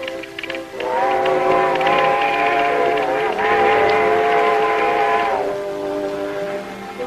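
A steam train approaches with a long, loud steam whistle blast lasting several seconds, over rumbling rail noise, in a 1939 Western film.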